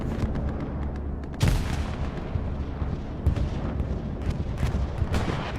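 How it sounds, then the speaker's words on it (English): Bombs from a bomber run in the World War II shooter Hell Let Loose, booming artillery-like explosions thudding over a rumbling battlefield, one sharp heavy blast followed by scattered further impacts. "A bunch of bombs will come down."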